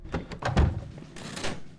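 A door opens in the stealth game The Dark Mod, a short creak and thud close by, then a softer scraping movement.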